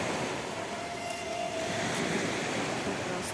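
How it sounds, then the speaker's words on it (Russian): A train passing close by near Robinson Beach at Kudepsta on the Black Sea coast: a steady, loud rumbling roar of rolling wagons, with surf washing in the background and no talk. "Прекрасные поезда."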